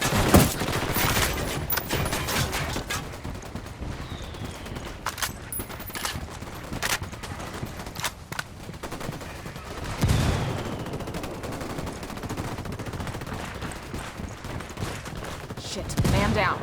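Bursts of automatic gunfire and scattered shots in the tactical shooter Ghost Recon Wildlands, loud and close, with repeated volleys, sharp cracks near the start and around the middle, and voices calling out during the fight.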